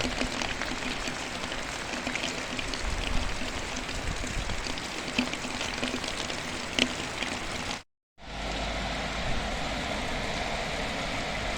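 Heavy spring downpour in Mangystau, a dense steady wash of falling rain and running water with scattered drops, briefly cut to silence before resuming just as strong.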